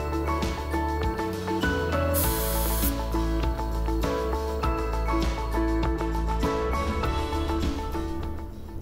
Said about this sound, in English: spray pattern wide open, pressure set, right distance, and then 2 seconds trigger.